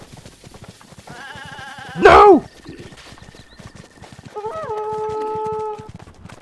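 Horse hooves gallop in a fast, even clip-clop rhythm in the video game Zelda: Breath of the Wild. The hoofbeats run throughout beneath game tones, and someone shouts briefly over them.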